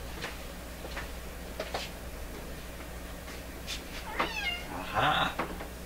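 Indoor cats meow to be let outside, with several short mews and a louder, rising meow near the end, close by over a faint steady room hum.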